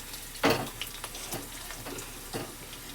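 Tempering spices such as garlic and cumin sizzling in hot oil for gongura chutney, a steady close fry broken by a few sharp spatula scrapes and stirs.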